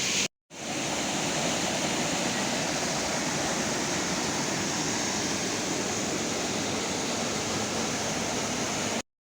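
A waterfall in the Dilar river valley roars as a steady, dense, loud rush of water that never lets up and has no voices over it.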